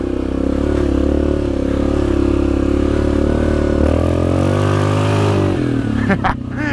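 A Yamaha Grizzly 700 XTR quad's engine drones steadily and loudly while riding trails at Hatfield & McCoy Devil Anse, its pitch shifting as the throttle changes, with some clatter near the end.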